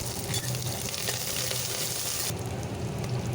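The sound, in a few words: curry leaves frying in oil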